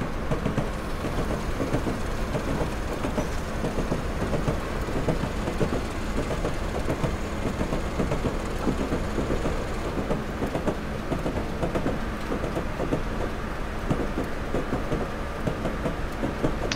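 A Hornby TTS model of the Duke of Gloucester locomotive runs steadily for the whole stretch, a continuous, fairly loud rumbling and rattling rail sound with faint rhythmic clicking and no talking.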